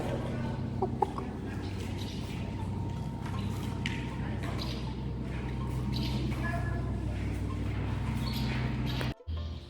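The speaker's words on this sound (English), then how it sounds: "And the chicken." Chickens cluck intermittently at Schloss Hof castle in Austria amid busy background noise and nearby talking, with a few sharper calls standing out.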